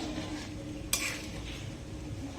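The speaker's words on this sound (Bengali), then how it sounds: "ফোড়নে তেজপাতা শুকনো লঙ্কা গোটা জিরা গোটা গরম মশলা দিয়ে ফোড়ন দিয়ে দিয়েছি" Bay leaf, dry red chilli, whole cumin and whole garam masala tempering in hot oil make a quiet, continuous sizzle, with one sharp utensil clink partway through.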